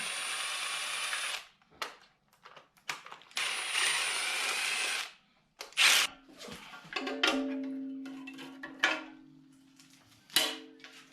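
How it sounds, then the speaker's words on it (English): A power tool spins out bolts on a car during an LS swap rebuild, in short loud whirring bursts separated by pauses, with occasional metallic clicks and clanks nearby. "I got the bolts on here broke loose, so we'll just finish taking them out."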